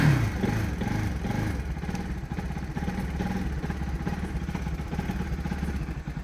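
A motorcycle engine runs at night around 10:30 as a ride begins. The steady, close mid-pitched putter carries throughout without speech.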